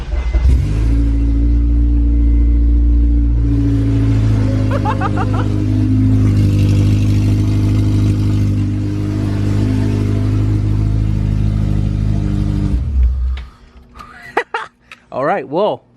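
A K24A2-swapped Honda CR-V engine runs after starting, a steady low rumble and hum holding loud for about thirteen seconds before cutting off, with people talking over it.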